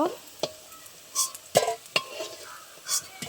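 Pumpkin koftas fry in hot oil, a soft sizzle broken by a few sharp scrapes and clinks of a utensil against the pan, fairly quiet with no voices.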